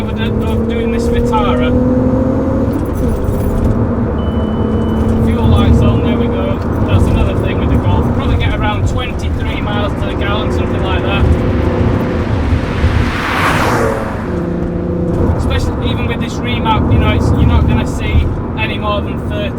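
A VW Golf MK4 R32 with its V6 exhaust droning steadily while driving, rasping harder as revs climb past about 3,000 in third gear, heard from inside the car under continuous talking.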